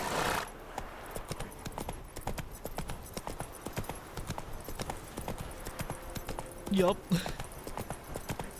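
Hooves of Geralt's horse Roach clip-clop in a steady rhythm in The Witcher 3 video game. A voice speaks briefly over the trotting, and a short louder burst of sound comes near the end.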